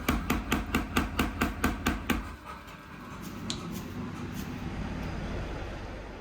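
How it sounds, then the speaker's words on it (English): Motorcycle chain is forged into a tool steel billet with about ten fast, even hammer blows close by, followed by a grinding mechanical roar with a few faint knocks. "We keep flipping the billet 90 degrees to squeeze it from all sides. It's a loud, hot process"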